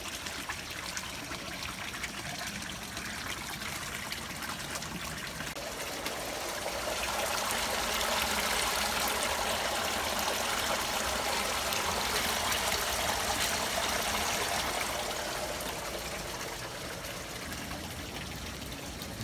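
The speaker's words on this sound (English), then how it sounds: "That little trickle of water there fills up a 5-gallon bucket in 4 hours." A small trickle of water runs steadily into a koi pond, heard as a continuous hissing splash. It swells a little louder midway, then eases back, with no voices over it.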